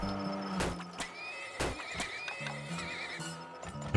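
Horse neighs and whinnies from the video game Turmoil, with repeated short sharp calls and light clip-clop hoofbeats over a busy layer of game music and effects, no talking.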